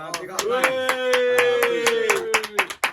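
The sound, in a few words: people clapping in a podcast studio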